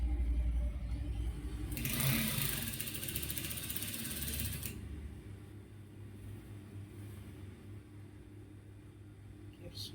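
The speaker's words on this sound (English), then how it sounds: "Keep stretching, keep sewing." Sewing machine stitching palazzo trouser fabric with a mechanical, ratcheting whir that runs loud for about three seconds, then drops to a quieter low hum for the rest of the clip.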